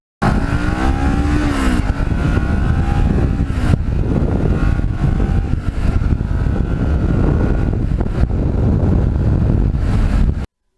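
Kawasaki Ninja 650 motorcycle on the road, engine droning loudly with shifting revs under heavy wind buffeting, continuous and close from the rider's position.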